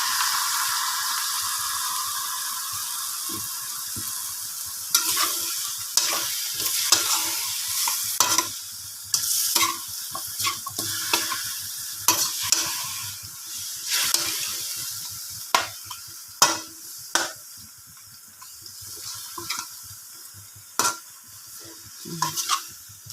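Pork chops being stirred in a pan with soy sauce: quick clattering scrapes and knocks of a utensil over a bright, constant sizzle of frying, close and busy throughout with no talking.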